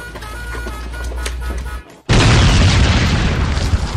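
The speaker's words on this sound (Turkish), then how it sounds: "Patladı güzel makine." A sudden loud boom bursts out after a brief hush as a lie detector machine explodes, followed by a sustained roaring, crackling blast noise.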